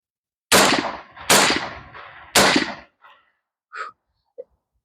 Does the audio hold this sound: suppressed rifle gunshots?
yes